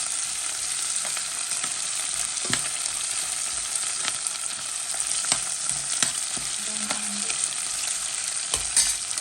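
Ingredients frying in a pan for Jaffna crab curry, a steady hissing sizzle with occasional stirring clicks and scrapes, close and continuous with no talk.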